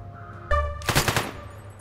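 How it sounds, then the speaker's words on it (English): Short burst of submachine gun fire in a video game, a quick rapid rattle of several shots following a brief mechanical click, loud and close with no talking over it. "Why are you using an SMG?"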